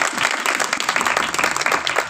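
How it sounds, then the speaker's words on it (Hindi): A church congregation claps loudly during a sermon, producing a lively, dense burst of applause with a few distinct sharp claps standing out across the short stretch. "जोरदार ताली"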